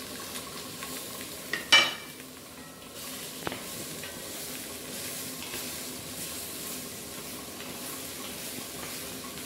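Rabbit pieces for gibelotte dropped into a hot pot, a sharp burst of sizzling as they land, then a constant low frying hiss that carries on, close and moderately quiet.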